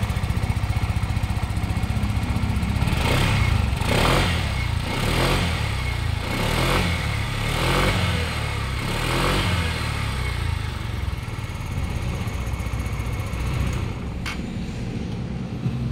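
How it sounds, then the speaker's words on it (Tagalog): A Motoposh Evo 170 EFI motorcycle engine idles steadily and smoothly close by, with a few rhythmic revs swelling early before settling into an even, continuous hum. "napaka-smooth ng tunog ni Evo 170"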